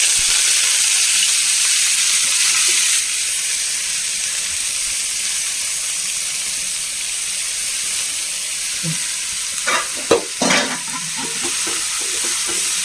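Chopped snake gourd sizzling as it fries in a hot pan after mustard seeds, turmeric and green chillies, a steady close hiss with brief louder crackles and stirring scrapes near the end.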